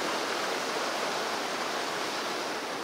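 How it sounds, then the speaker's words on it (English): White water rushing down a stream, a loud, steady broadband roar that fills the whole stretch with no voices. "Look at the white water here."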